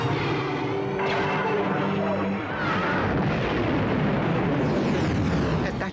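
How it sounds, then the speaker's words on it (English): The Death Star fires its superlaser and destroys the planet Alderaan in Star Wars: a deep, rolling explosive roar swells and surges for several seconds, a loud blast that fills the scene. "Darth Vader decided to test his new weapon by using it against her home planet"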